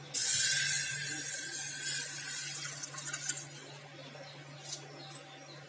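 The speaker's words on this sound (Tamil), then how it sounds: "இப்போ தண்ணி ஊற்றியாச்சு. பாசிப்பருப்பு முழுகிற அளவுக்கு தண்ணி ஊற்றினா போதும்." Water is poured into a pressure cooker over washed moong dal (split yellow lentils) while making Ashoka halwa: a loud rushing splash at first that thins into a softer trickle with a few small splashes, with no talking.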